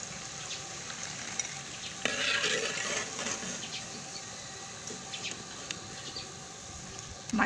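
Pakoras frying in hot ghee, a continuous low crackling sizzle with a brief louder burst of bubbling partway through, close but fairly quiet, with faint faraway bird calls behind.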